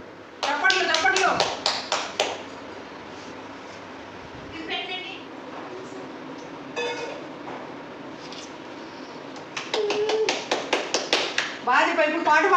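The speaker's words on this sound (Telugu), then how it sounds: "చప్పట్లు కొట్టు చప్పట్లు కొట్టు" Two bursts of quick hand clapping, close and fairly loud, one near the start and another toward the end, with voices talking between them.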